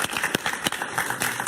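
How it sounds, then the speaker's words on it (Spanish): A brief burst of studio applause during a television interview, many hands clapping quickly and unevenly, moderately loud. "Un aplauso para Alan"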